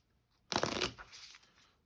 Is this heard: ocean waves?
no